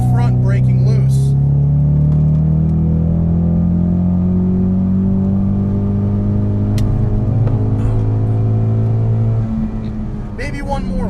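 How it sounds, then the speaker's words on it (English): A heavy car drifts sideways around a track, its engine holding a loud, steady revving drone that sags briefly near the end. The sound is close and continuous, and no one speaks over it. "it's still kind of a heavy car, but it feels like the power is there to get it to go sideways"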